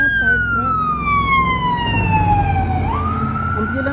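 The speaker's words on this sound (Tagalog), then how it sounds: "Makukuha po natin yung nag-ngaw-ngaw po na ambulance." An ambulance siren wails loudly and up close in a long descending sweep that then turns back upward, heard over low traffic rumble.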